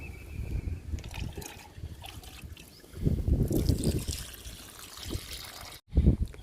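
Liquid fertilizer poured onto a potted flowering plant, a close, steady trickle and splash of liquid that swells midway and stops with a brief final splash.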